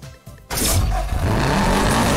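A Subaru WRX STI engine in Need for Speed Hot Pursuit Remastered suddenly roars up close and holds a loud, rough, steady drone.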